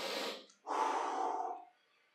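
Heavy breathing during a high-intensity cardio HIIT workout for beginners, heard as a short breath followed by a longer, louder exhale, close and alone with no talking.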